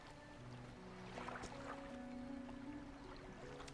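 A fishing boat engine in the video game Dredge runs with a faint, steady low chugging hum over soft water lapping, and no other sound breaks through.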